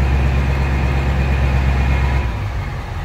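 1999 Ford F550 pickup with a 7.3L diesel engine idling in a reduced whisper mode, a steady low rumble close by with no talk, easing slightly quieter near the end.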